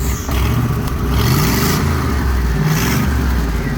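A Ford F-150 4x4 pickup's deep engine revs loudly and steadily, a throaty rumble rising and falling in pitch over a few seconds with no one speaking.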